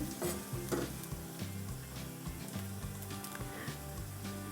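Green chilies sautéing with turmeric in a pan, a steady close sizzle with occasional stirring scrapes, and no voices.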